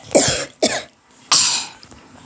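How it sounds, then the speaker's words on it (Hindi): Three sharp, close coughs in quick succession, separated by short pauses, with a faint throat sound at the end. "देखे तो खांसी भी हो रहा है"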